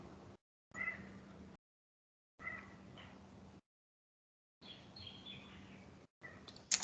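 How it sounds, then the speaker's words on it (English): Currawong song in the Australian bush comes in short separated bursts, with a clear ringing call and a few softer warbles over a low, steady background hum, heard at a moderate distance. "We've got Aussie Bush with currawong."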